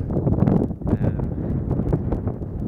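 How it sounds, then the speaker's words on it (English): Steady wind buffets the microphone outdoors on a walking trail of the Camino de Santiago between Carrión de los Condes and Moratinos, a continuous low rumbling roar with gusty swells and no talk. "The weather's good. A bit of a wind."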